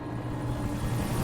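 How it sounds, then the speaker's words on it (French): A helicopter in the video game Alan Wake gives a steady, low, droning engine rumble that holds even throughout the short moment, with no speech. "Ah, un hélicoptère."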